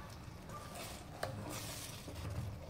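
Milk being stirred into a rib croquette mixture in an iron pan, with a steady soft scraping and bubbling sizzle throughout and a single brief utensil clink partway through.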